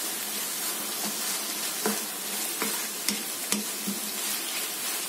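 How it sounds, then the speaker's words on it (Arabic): Onions and meat fry over heat without added water, a continuous close sizzle with a few spatula scrapes and taps as the mixture is stirred. "نقلبها شوية على النار طبعا، كلها من غير مية."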